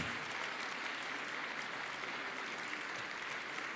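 Audience at a formal gala evening applauds, a continuous wash of many hands clapping, heard from a distance and fairly quiet throughout.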